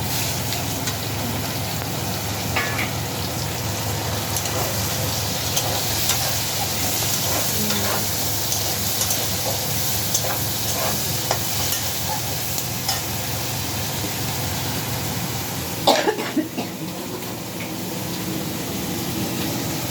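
Onion hits hot spiced oil in a pan with garlic already in, giving a steady, loud, dense sizzle and frying hiss throughout, with occasional stirring clinks and scrapes close up and no voices.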